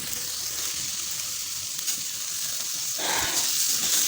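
Chicken pieces sizzling in a pan over slow heat, a steady, bright crackling hiss that runs without a break, with a brief soft clatter partway through.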